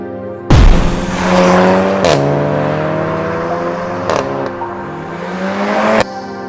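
A Volkswagen Golf R engine revs loudly and close, its note rising and falling with sharp throttle blips and a synthetic, piped-in tone that sounds a bit like a misfiring flat four.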